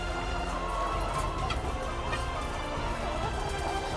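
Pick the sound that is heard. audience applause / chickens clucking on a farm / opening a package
chickens clucking on a farm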